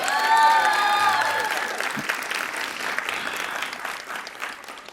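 A graduation ceremony crowd applauds in a dense wash that starts loud and slowly tapers, with a faint tonal whistle or feedback squeal in the first second.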